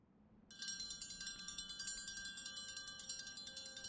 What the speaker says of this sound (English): We will begin now with the bell indicating an arrival of a guest.